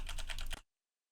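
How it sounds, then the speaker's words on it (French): Hard, rapid keystrokes pounded on a mechanical keyboard, a dense burst of clacking for about half a second that stops abruptly into silence. "On enchaîne avec le test du clavier mécanique. Vous entendez bien les touches, je martèle bien les touches."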